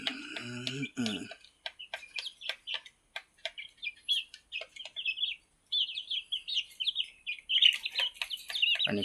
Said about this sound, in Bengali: মুরগির বাচ্চাগুলো খাওয়া দাওয়া করতেছে।